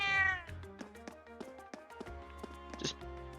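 Trails of Cold Steel cats meow over soft game music with tapping notes. A rising meow opens the stretch, and a shorter one follows near its end.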